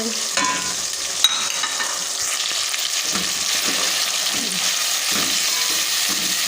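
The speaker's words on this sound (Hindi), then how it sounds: "मैं चाह रही थी कि ये बीच में थोड़ी सी फ्राई हो जाए। तो ये मैंने टमाटर डाल दिए" Tomatoes and spices frying in a pan for a potato and black chickpea pulao, a loud continuous sizzle with occasional soft stirring scrapes and one sharp clink, no talking.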